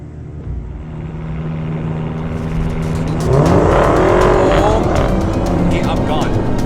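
A 2019 BMW M5 Competition and a Dodge Demon launching side by side in a drag race, engines rising from a steady rumble into a loud, climbing roar with tire squeal as they accelerate hard and close by; talk is heard under the noise.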